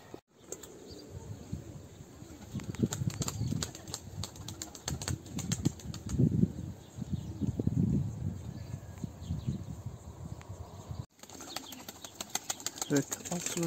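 Pigeons being released in training beat and flap their wings in bursts of fluttering, mixed with outdoor background noise and faint insect buzz, at moderate distance.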